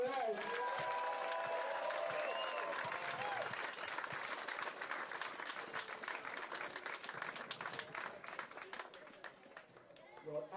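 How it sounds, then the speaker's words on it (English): Crowd clapping and cheering at the IWWF European and African wakeboard championships, an outdoor event, with an announcer talking over the applause, which thins into scattered claps by the end. "Another round of applause, guys."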